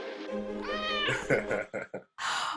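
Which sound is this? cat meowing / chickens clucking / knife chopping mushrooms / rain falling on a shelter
cat meowing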